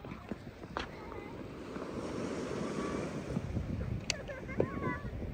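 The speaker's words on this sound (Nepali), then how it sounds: "कस्तो पानीको भेल बगेको है।" Surf and rushing water wash steadily along a beach, a soft, continuous broadband hiss with faint voices and brief sharp sounds scattered over it.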